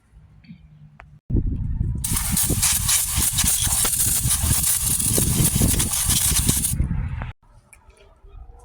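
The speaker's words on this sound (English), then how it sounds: "Sprayed everything down, a little dusty, but not bad." Aerosol spray cleaner blasting transmission parts during a car transmission rebuild, a loud continuous close hiss lasting about six seconds, cutting in abruptly and stopping sharply, with quieter handling noise before and after.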